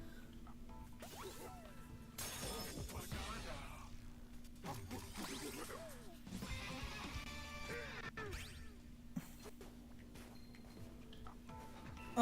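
Terrain being smashed and shattered in the video game Donkey Kong Bananza, a dense, continuous run of crashing and crumbling impacts with whooshes and game music, steady and moderately loud throughout.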